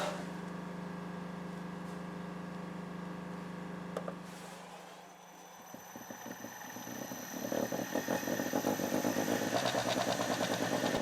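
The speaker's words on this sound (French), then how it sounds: "Ok, je vais allumer le groupe électrogène. Donc je lance le moteur." Generator engine used in an asynchronous-generator grid-injection setup, a steady hum that drops away, then the engine is started and settles into a rough, rising mechanical running drone with rhythmic pulsing, fairly close.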